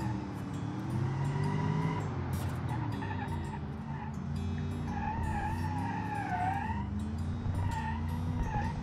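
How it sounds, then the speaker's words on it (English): Car engine revving and tires skidding in BeamNG.Drive, a tough, quiet-exhaust hyper ute that oversteers and smokes its tires; a steady engine drone with rising and falling pitch runs throughout, with squealing tire tones sliding over it. "it oversteers on every single corner, and it's a tire smoking machine"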